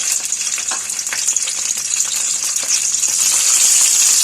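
Green chillies frying in hot oil, a steady bright sizzle with scattered crackles and pops that builds slightly toward the end, close and continuous without any voices.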